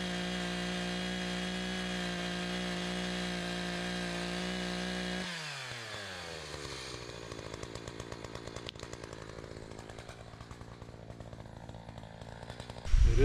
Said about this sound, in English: I can hear it slowly cracking where I cut.